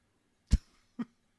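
Two short coughs, close by, about half a second apart, in an otherwise quiet room.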